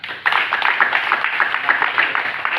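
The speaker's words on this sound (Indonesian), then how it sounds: "Tepuk tangan" Steady clapping from a small group in a classroom for vehicle body-filler training, with evenly spaced claps that run continuously and fairly loud for the whole stretch.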